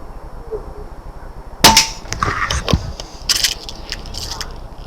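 A Daystate Air Wolf air rifle fires during a chronograph test: one sharp, close crack, followed by lighter metallic clicks and scraping as the rifle is handled.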